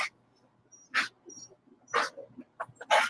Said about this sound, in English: They'll probably start barking really loud and crazy once they see Mom.